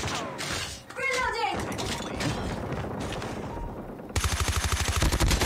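Gunfire in Call of Duty Mobile, a run of shots with mechanical clatter, ending in a loud, steady rapid burst of automatic fire close by.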